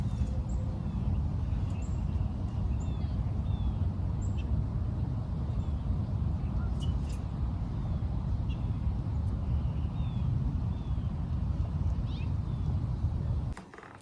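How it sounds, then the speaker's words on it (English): Birds chirping outdoors, scattered small calls and trills sitting faintly above a steady low rumble of background noise, with no talk, until the sound cuts off near the end. "Just sit with me for like 10 seconds and listen to the birds."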